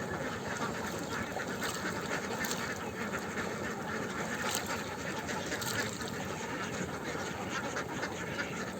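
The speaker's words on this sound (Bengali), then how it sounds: "যার কারণে হাঁস এখন বাড়িতে নিয়ে যাইতেছে" Ducks quack steadily as they are herded home at dusk in a village. Their calls are faint and continuous over outdoor background noise, with no one speaking.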